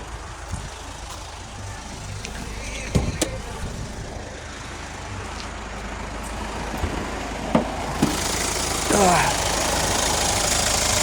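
A 2013 Hyundai Santa Fe 2.0 diesel engine idles steadily with a low, even rumble, punctuated by a few brief clicks and knocks, with louder hissing noise toward the end.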